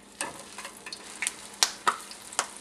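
Lumpia fry in a hot pan of oil with irregular sharp pops and crackles spitting over a soft, constant sizzle, heard up close with no voices.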